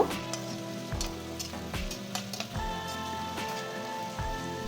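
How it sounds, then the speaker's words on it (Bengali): Onion, capsicum and green chilli frying in oil in a pan, giving a dense, steady sizzle with a few scrapes and knocks from stirring, close and constant, no voice. "সব কিছু একসাথে আরও 2 মিনিট ভেজে নেব।"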